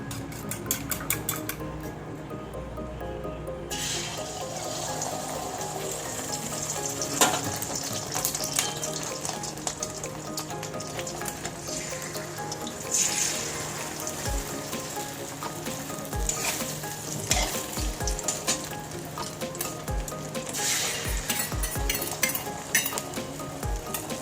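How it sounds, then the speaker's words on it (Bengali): Two eggs fry in hot oil in a hot wok, a steady close sizzle and crackle running throughout with occasional metallic scrapes and clinks of a spatula against the pan. "ডিমগুলোকে একটু ভালো করে লাল লাল করে ভেজে নেব।"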